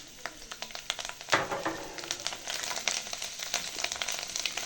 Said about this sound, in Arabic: هنزل بقى في الزيت ده على طول بالخضرة بتاعتي اللي هو الشبت والكزبرة